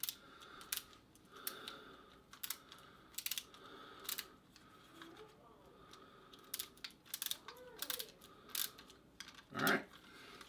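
Screw threaded into thin 3D-printed PLA plastic, a quiet series of close, irregular ratcheting clicks and creaks in short bursts with brief pauses between turns.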